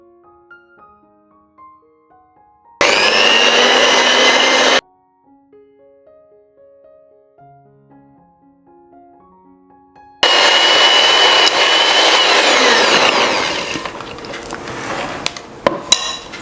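An electric mixer beats butter and sugar for a British plum cake. Two loud, steady bursts of high motor whine are separated by quiet background music, and the second burst runs longer and ends with a few clatters.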